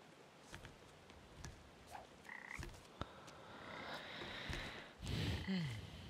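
Frog croaking in the video game Papo & Yo, a few faint throaty croaks scattered over a soft ambient background with no speech.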